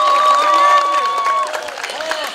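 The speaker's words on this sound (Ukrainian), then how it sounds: "Гучні облески Славі!" Loud crowd applause and cheering for a guest named Slava at a festive gathering. The clapping stays steady and dense, partly masked by a sustained tonal sound, with the crowd louder early on before easing slightly.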